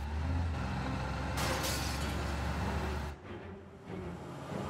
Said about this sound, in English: That sounds like a car approach.